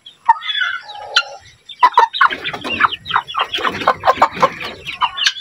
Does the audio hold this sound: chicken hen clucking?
yes